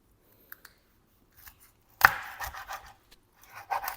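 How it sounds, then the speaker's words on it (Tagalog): Knife chopping through fish on a cutting board, a few sharp isolated chops at first, then a heavier strike and a denser run of quick cuts, close and fairly quiet. "So, hiwain ulit natin sa apat."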